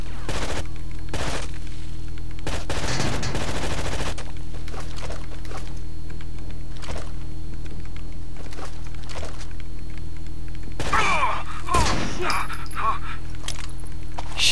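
Gunfire in the video game Rainbow Six Vegas, scattered sharp shots and short bursts, some in rapid clusters, loud against a constant low hum, with voices talking in between.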